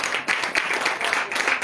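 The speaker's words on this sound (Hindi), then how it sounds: "जोरदार से तालियां दे।" A church congregation claps for Father's Day, a dense, steady wash of many hands filling the room from start to finish.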